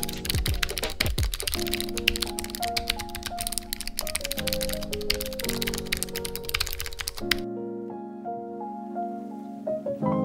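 Rapid, continuous clicking of a computer keyboard being typed on close up, steady and busy throughout, with a sustained synth tone playing underneath.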